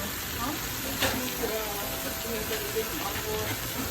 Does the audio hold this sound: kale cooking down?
yes